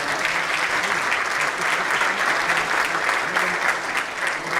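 An audience at a felicitation event for Biju Pattanayak (Biju bhai) bursts into loud, sustained applause, dense clapping from a large crowd filling the room without pause.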